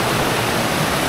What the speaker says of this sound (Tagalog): First time namin na makita o maipakita sa inyo talaga yung tubig na nanggagaling sa tuktok.